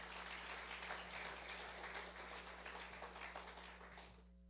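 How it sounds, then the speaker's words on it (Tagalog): A congregation at a midweek church service applauds for the Lord, a dense wash of clapping over a constant low hum that fades out near the end. "Malakas na palakpak sa Panginoon."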